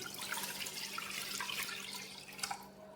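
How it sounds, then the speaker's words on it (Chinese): Water pours into a prepared cooking pot for Chaoshan beef balls, a steady close splashing stream lasting the whole stretch with no talk. "首先我们要把这个水倒到这个准备好的这个锅里面去"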